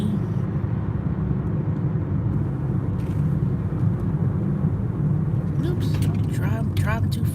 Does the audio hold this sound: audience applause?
no